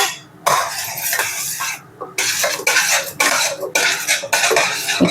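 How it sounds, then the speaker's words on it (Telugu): Ground dry coconut being stirred into hot jaggery syrup in a pan for kobbari burelu, loud close scraping strokes of a spoon against the pan in uneven bursts with brief pauses between. "ఇప్పుడు గ్రైండ్ చేసుకున్న ఎండు కొబ్బరిని వేసుకొని మిక్స్ చేసుకోవాలి"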